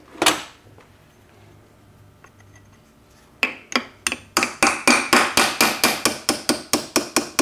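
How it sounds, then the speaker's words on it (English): A hammer strikes a punch to drive a dowel pin through the tail of a T10 four-speed gearbox from an early C1 Corvette. A loud metallic blow comes first, then a quickening run of about fifteen sharp, evenly spaced strikes, close up. "So what you want to do is you want to punch that pin through."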